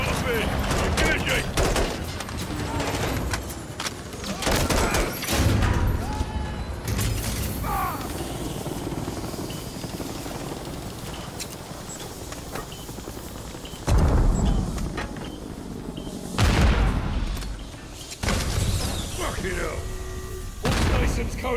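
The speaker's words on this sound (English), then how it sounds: "Blue Bravo, put fire on that helo!" Repeated bursts of heavy gunfire aimed at a helicopter in the Modern Warfare III campaign on Veteran difficulty, loud clusters of shots spread across the scene with rotor and mechanical battle noise and soldiers shouting between volleys.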